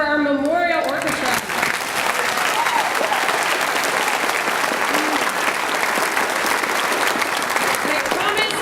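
A concert audience gives a loud, sustained round of applause for a 7th and 8th grade school orchestra at a spring concert, dense and even throughout, with a brief voice and lingering tones at the very start.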